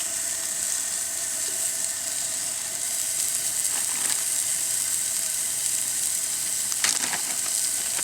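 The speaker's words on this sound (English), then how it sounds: "Dad's cooking up some breakfast here." Hash browns frying for breakfast over a fire at an off-grid cabin, giving a steady close sizzle with a constant hiss throughout and a few faint clicks and knocks of handling.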